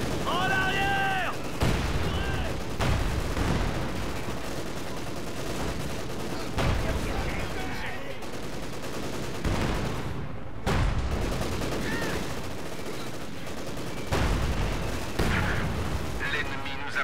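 Battlefield gunfire and artillery in the WWII strategy game Company of Heroes, Operation Barbarossa near Minsk: dense continuous rattling shots and repeated booming blasts, loud and sustained, with brief voice callouts mixed in.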